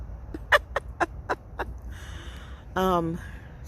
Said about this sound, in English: look at them two birds over there having a conversation.